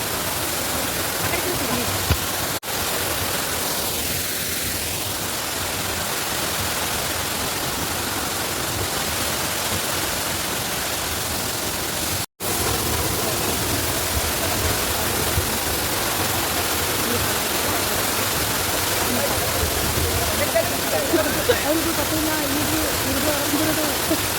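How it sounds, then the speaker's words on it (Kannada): Varavi waterfall roars as a steady broadband rush of falling water that stays dense and loud with no break, while a voice speaks over it now and then. "ಪೇಂಟಿಂಗ್ ಅಂತ ನೋಡಿ ಎಷ್ಟು ಸಖತ್ತಾಗಿದೆ ಈ ಫಾಲ್ಸ್"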